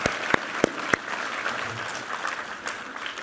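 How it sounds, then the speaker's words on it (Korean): Church congregation applauding at a Christmas Eve service, a few sharp separate claps at first, then a steady, fairly distant wash of clapping across the room. "우리 하나님께 감사와 영광의 박수 올려드리겠습니다."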